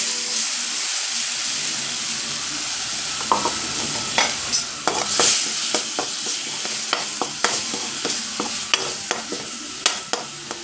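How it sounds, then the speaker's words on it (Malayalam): Tomato paste for an egg curry bubbles and sizzles in hot masala oil while a spoon scrapes and stirs the pan in a steady rhythm of sharp clicks over a constant frying hiss. No one speaks. "ഇച്ചിരി ഒന്ന് ചൂടാക്കിയതിന് ശേഷം നമ്മൾ അടിച്ചു വച്ചിരുന്ന തക്കാളിയുടെ പേസ്റ്റ് ഒന്ന്"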